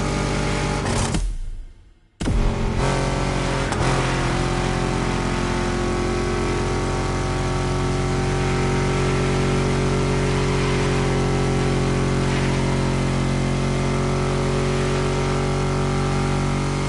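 A car engine in The Crew racing game holds a loud, steady hum that swells and shifts in pitch, briefly cut out near the start and then droning on without pause.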